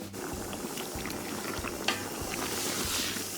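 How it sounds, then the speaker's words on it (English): Beef cooking with blended ingredients in a pot for white benachin, a steady bubbling simmer with soft crackle and a brief clink near the middle, no talking. "Now we're going to fry this until it is well done"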